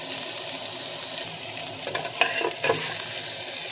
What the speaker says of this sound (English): after 2 minutes we sort of flip the pieces of the yam over so that we can have them brown evenly on both sides